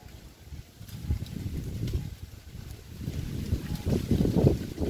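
Gusty outdoor wind buffeting the microphone beside an avocado tree, low rumbling blasts that rise and fall irregularly and grow stronger toward the end, with no talking.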